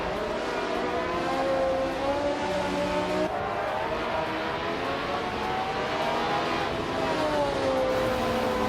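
Race car engines in a racing video game, including a Surtees TS19, whine steadily with rising and falling pitch as cars shift and pass, a continuous moderately loud drone with no talk.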